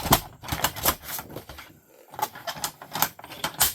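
Paper is cut down for a pocket in a handmade ephemera book, a close, rhythmic series of crisp snips and rustles with a brief gap partway through.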